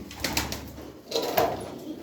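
Bango pigeons in a loft give a few brief, soft coos close by, with light rustling in the background and no voices.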